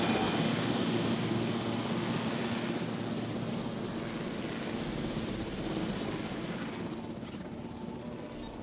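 Ranger helicopter in the video game Jurassic World Evolution, a steady, loud rotor and engine drone that holds throughout and fades slightly toward the end, with no talk.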